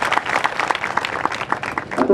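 Applause from a lecture-series audience in Nashik after a talk on Shivaji Raje, a dense, steady patter of many hands clapping at moderate loudness throughout, with voices murmuring underneath.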